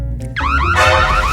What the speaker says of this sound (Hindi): अरे नहीं, अलार्म!